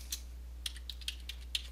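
Someone types an IP address on a computer keyboard: about eight light, sparse keystrokes tapped at an uneven pace, close by over a low steady hum.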